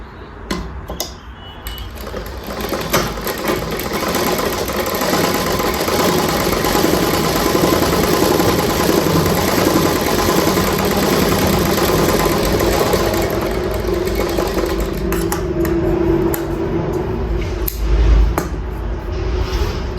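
A sewing machine stitches a one-sided seam on a blouse, running continuously and fairly loud with a steady motor hum and rapid needle clatter.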